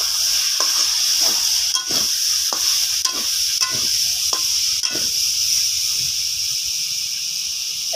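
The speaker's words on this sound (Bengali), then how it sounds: "এবার ঢাকনা চাপিয়ে আমি 3 থেকে 4 মিনিট মতো কষাবো" Dal is sautéed with spices in a pan, a steady bright hiss of frying running throughout with several distinct scraping stirs of a spatula spaced about a second apart, close and loud with no talk.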